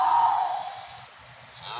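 A cow moo played back from a kids' animal app on a device, one drawn-out lowing call that fades away, with no talk over it.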